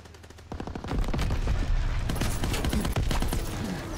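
Rapid automatic gunfire from a Call of Duty WWII multiplayer match bursts out in dense, overlapping volleys after a brief quiet start, loud and close with sharp repeated cracks.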